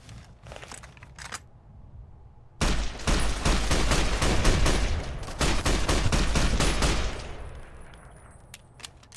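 Gunfire in Fallout: New Vegas: a few faint shots, a short pause, then a long barrage of loud, rapid shots that taper into scattered, quieter pops.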